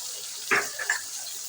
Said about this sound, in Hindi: दाल में हाफ़ प्याली के करीब पानी मिक्स करके वो भी हम इसमें शामिल कर देंगे।